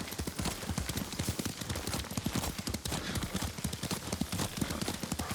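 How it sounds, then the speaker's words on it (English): Horse hooves clop at a fast, steady gallop under a rider in the samurai game Ghost of Tsushima, a dense continuous drumming rhythm at close range with no talk over it. "Lord Sakai taught me to ride a horse."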